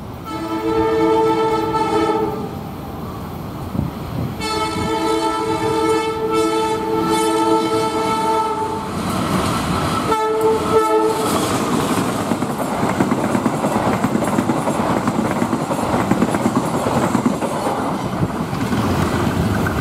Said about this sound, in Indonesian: Gerbong kereta lewat mungkin Sri Tanjung, kereta komuter.